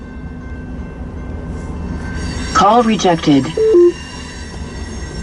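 A freight train passes in Lincoln, Nebraska, a steady low rumble of rolling wagons heard from inside a car, while a synthesized in-car voice briefly announces something over it.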